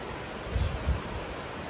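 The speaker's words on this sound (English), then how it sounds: "we've got us a waterfall going into the cow pasture here, where she's cresting over" Floodwater cresting over and pouring as a waterfall into a cow pasture, heard as a steady, broad rushing roar with a couple of heavier low surges, no voices.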